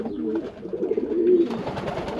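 A pigeon coos nearby in a home loft, a low, throaty, rolling call lasting a couple of seconds, close and fairly clear against a quiet background.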